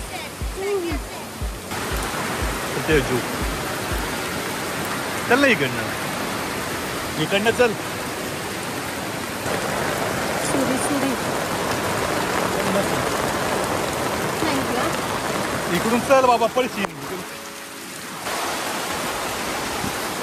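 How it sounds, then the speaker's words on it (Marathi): Heavy rain pours down in a dense, steady hiss throughout, with people speaking briefly over the downpour. "पाऊस मित्रांनो खूप जोरात पाऊस आला. जोराचा पाऊस."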